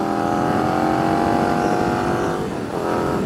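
Indian FTR S motorcycle being ridden at steady speed, a loud continuous engine drone with harmonic hum throughout and a brief dip in pitch and level near the end, as if shifting or easing off.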